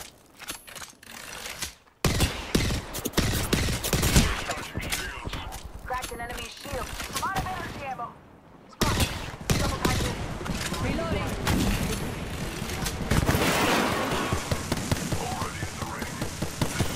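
Gunfire crackles in the Apex Legends video game in loud, dense bursts and rapid volleys, broken by a brief pause, with game voices and action sounds mixed in throughout.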